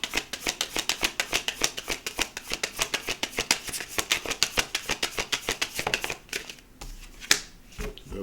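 Horror Oracle cards being shuffled, a long run of quick crisp riffling slaps in steady rhythm, close and loud, ending in a few softer card-handling rustles and a single snap as a card is drawn.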